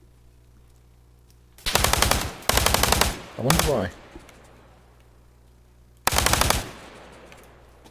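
Heavy machine gun fire in the video game ArmA 3 with the 3CB sound mod: several loud sustained bursts of rapid shots separated by pauses, with someone speaking briefly between bursts.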